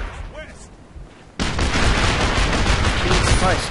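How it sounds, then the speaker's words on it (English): Gunfire in the video game Operation Flashpoint: Dragon Rising, with sparse shots under speech at first, then a sudden loud, dense burst of rapid automatic fire that keeps going to the end. "Alright, stop shooting me."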